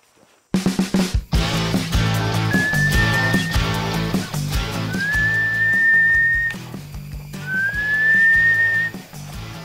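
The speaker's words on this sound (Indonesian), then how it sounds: "Kakak Haga sudah mulai bersiul, itu sebagai tanda permisi karena kita sudah mulai memasuki wilayah mata air" A person whistles while entering the area of a natural spring in the Papua wilderness: three rising, drawn-out whistled notes, each about a second long, heard clearly over a dense, steady layer of background sound.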